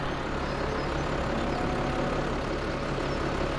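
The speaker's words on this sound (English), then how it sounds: "He's got the tractor going for slurry already." A tractor engine idling in the Farming Simulator 17 farming game, preparing to haul slurry on an estate farm, a steady unbroken low rumble and roar at full level with no voices.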